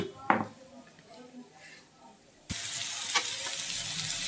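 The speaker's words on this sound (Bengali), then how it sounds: "এখন বসাবো করলা ভাজি।" Bitter gourd pieces drop into a hot pan of oil and start frying. A clatter and a short quiet spell come first, then a loud, steady sizzle sets in and keeps going.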